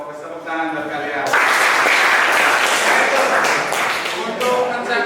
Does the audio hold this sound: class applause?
yes